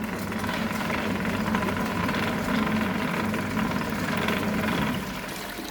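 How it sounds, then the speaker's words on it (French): A motor runs steadily inside a gravel water filtration machine built in an electromechanical workshop, giving a continuous, even hum with a faint watery churn. It stays at the same level throughout and eases off slightly near the end. "Quand le niveau haut sera atteint, le moteur s'arrêtera et la pompe s'activera."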